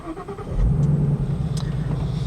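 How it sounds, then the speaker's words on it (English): A 2015 Ford Mustang GT's 5-liter V8 starts up, a brief crank followed by a deep, steady idle rumble close by with no talking. "All you have to do is put the clutch in and push the button to start the engine."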